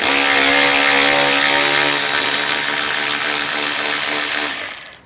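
A power tool loudly backs T30 Torx bolts out of a car's front fascia. It gives a strong, steady whirring whine for about four seconds that trails off as the tool stops, with no voices.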